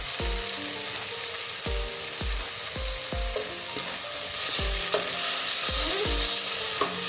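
Tomatoes go into a pan of onions frying with a little water, giving a soft sizzle under a string of ringing metallic clinks, about a dozen, as a spoon strikes the pan; the frying grows louder partway through.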